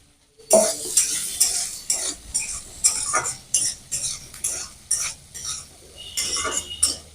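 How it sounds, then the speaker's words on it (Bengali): Chopped onion and a few chillies fry in a pan with a steady sizzle, broken by regular scraping and clinking as a utensil stirs them, close and fairly loud. "হালকা ভাজা হোক"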